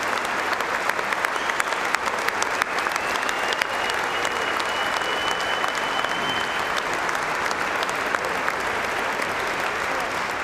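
A large banquet audience at a sports Hall of Fame induction dinner gives a sustained round of applause for the honorees, dense steady clapping filling the room for the whole stretch, with no one talking over it.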